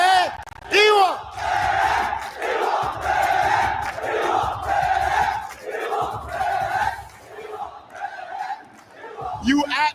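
Large esports arena crowd at a Fatal Fury: City of the Wolves tournament roars and chants in rhythmic unison, loud and sustained for several seconds, with shouted bursts rising and falling throughout.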